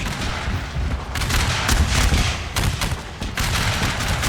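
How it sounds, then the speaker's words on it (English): Musket volleys and artillery fire crack and boom in dense, overlapping bursts across a massive American Civil War battle in Total War: Shogun 2, loud and continuous with no talk. "Fire a volley into the Union."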